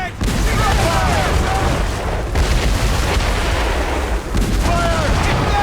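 Ship cannons boom repeatedly in a naval battle from Assassin's Creed Rogue, with heavy low blasts and dense gunfire while voices shout over the continuous barrage.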